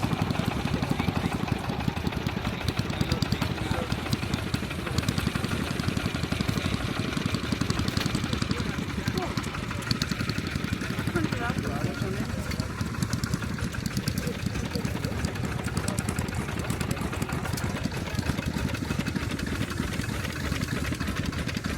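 A steam engine chugs in a steady, rapid rhythm that keeps up without a break, sounding close and moderately loud.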